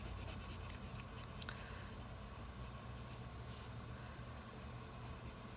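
A pencil or crayon rubs steadily across paper while someone colors in a map of the thirteen colonies, making a continuous close scratchy sound under low room noise, with no talking.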